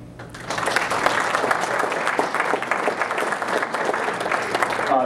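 Audience applause for a long-time supporter of a hometown community band in Neenah, a dense, sustained clapping from a crowd that stays steady and fairly loud throughout.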